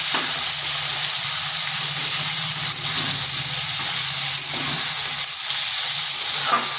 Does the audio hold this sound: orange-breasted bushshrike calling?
no